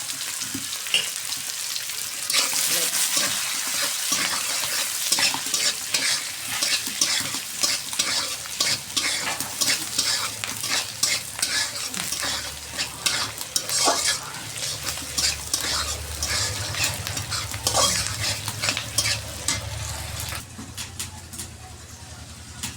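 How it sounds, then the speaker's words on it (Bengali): Mustard greens fry in a pan right after an egg, a steady sizzle broken by frequent stirring scrapes and clicks, with a faint low background hum and occasional distant sounds. "এর ভিতরেই আমি শাক ভেজে ফেলবো"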